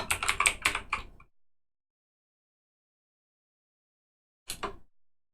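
Quick keystrokes on a computer keyboard spelling out a single short word, a rapid burst of clicks followed by silence and then two or three final taps, close and clear with no talking.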